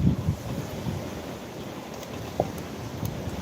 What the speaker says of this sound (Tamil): மழை வருது, ஒரு பக்கம் காற்றடிக்குது.